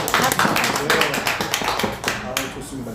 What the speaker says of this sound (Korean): 우리 박수 한번 하고 우리 시작합니다.